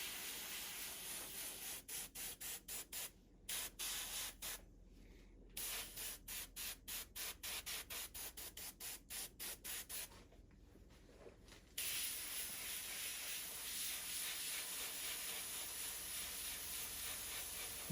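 An airbrush sprays paint onto a fully flocked wood duck drake decoy, giving a close, steady hiss that breaks into rapid on-off bursts as the trigger pulses, then runs continuously again.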